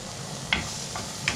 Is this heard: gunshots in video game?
no